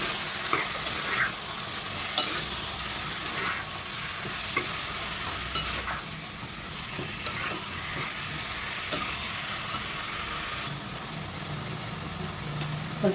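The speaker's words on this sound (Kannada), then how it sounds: "ಚೆನ್ನಾಗೊಂದು ಮಿಕ್ಸ್ ಕೊಡ್ತಾ ಇದ್ದೀನಿ." Spiced food with turmeric being stirred in a hot frying pan, giving a steady close sizzle with soft scraping stir strokes throughout and no talking.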